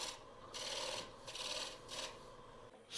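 Blade carving shavings from the side of a tree crotch wood blank being turned into a hollow form: a few short scraping strokes, close and faint, with brief pauses between them.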